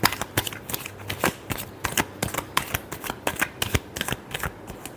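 Tarot cards are shuffled by hand in quick, repeated riffling bursts. The snaps come close and crisp in an uneven rhythm, with no voices over them.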